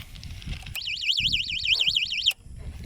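A motorcycle's security alarm wails in a rapid warbling siren for about a second and a half, clear and fairly loud over a low background rumble and brief voice activity.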